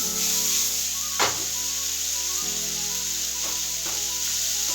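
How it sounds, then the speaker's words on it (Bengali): Boiled chowmein noodles stir-fried with vegetables in a hot pan give a steady, close sizzle, with a few scraping stirs breaking through the hiss and no voices. "এবার ভালো করে মিশিয়ে নেব সবজির সাথে একসাথে"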